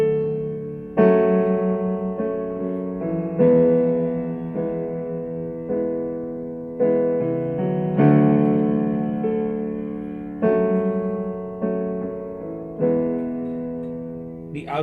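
Keyboard plays the intro of the worship song Great Are You Lord with an added A key: sustained chords struck roughly every one to two seconds, each decaying slowly, clear and alone with no talking.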